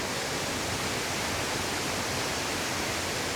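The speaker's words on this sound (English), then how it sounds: "stand directly over the raging torrent and to get up really close to the falls" A loud, steady roar of the Cascade de Bérard waterfall crashing nearby, heard from directly above the torrent, a dense wall of rushing water with no breaks or voices.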